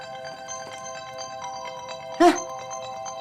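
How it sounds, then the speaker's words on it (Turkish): A mobile phone rings with a steady electronic tonal melody of stacked notes running through, heard indoors with a short sharp clatter partway and voices nearby. "telefonun çalıyor"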